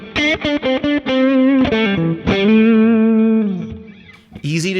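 An electric guitar with a gentle 1.5 dB boost plays a bright, sustained lead phrase, its notes ringing with slight shimmer and effects, starting with several short plucked notes.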